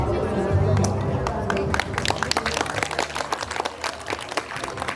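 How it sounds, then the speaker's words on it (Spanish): Crowd at a baptism celebration breaking into applause, dense clapping that grows after a short spoken introduction and continues in a rapid, uneven patter with background chatter. "Muy bien, fuerte los aplausos"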